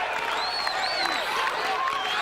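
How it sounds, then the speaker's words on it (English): Large arena crowd at the 1992 World's Strongest Man competition roars and applauds a strongman stepping up for an event, a dense continuous wash of cheering, whistles and clapping with voices blending in. "the crowd go absolutely wild"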